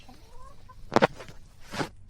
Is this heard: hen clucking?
yes